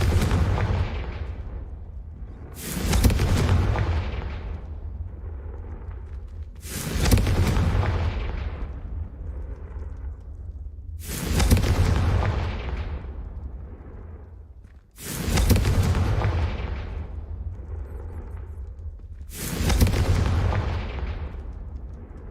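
Six booming fire spell explosions from Hogwarts Legacy, each a sharp loud blast decaying into a rumbling tail, spaced roughly four seconds apart.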